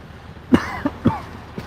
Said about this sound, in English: You mind if I just cough real quick?